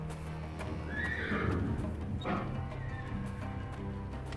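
Horses in a video game neigh and whinny nervously amid nearby fighting, a couple of drawn-out calls over soft hoof clip-clops and a low ambient murmur.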